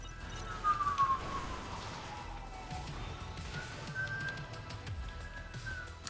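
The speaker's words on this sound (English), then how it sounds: "Sorry also for the siren out there." A police siren wails faintly outdoors, its rising and falling sweeps drifting in the distance over a low background rumble.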